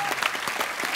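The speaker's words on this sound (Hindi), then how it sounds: "एक बार जोरदार तालियां ग्रेट ग्रैंड मस्ती की पूरी स्टार कास्ट और डायरेक्टर साहब मिस्टर इंद्र कुमार जी के लिए" A studio audience at a comedy talk show gives brisk, dense applause for the Great Grand Masti cast and director, with continuous clapping throughout.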